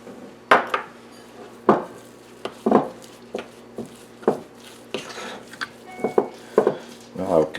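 A spoon scrapes and knocks against a bowl while ricotta dumpling mixture is stirred, giving a series of separate clinks and taps at an irregular pace, close by.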